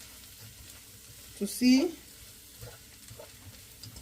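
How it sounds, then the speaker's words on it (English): Fried rice sizzles in a pan as a soft, steady crackle under a brief spoken phrase, with a few scraping stir sounds breaking in near the middle. "We fry like this, and you keep frying and eyeballing"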